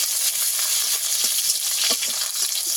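Neem leaves frying in hot oil in a pan for a Bengali eggplant dish, a loud, steady close-up sizzle with faint crackles and an occasional stir, no voices.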